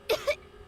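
A video game character in Genshin Impact coughs twice in quick succession, short raspy bursts heard close and alone.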